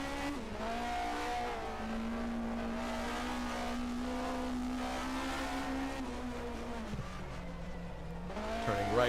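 A 1980 DRM Division 2 race car on board at the Bergischer race, engine droning steadily through the gears with a drop in pitch as it downshifts late on, while a commentator talks over it.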